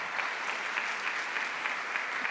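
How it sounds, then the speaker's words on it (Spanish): A church congregation claps steadily through the whole stretch, a dense, even wash of hands at moderate loudness with no speech on top. "aplauso."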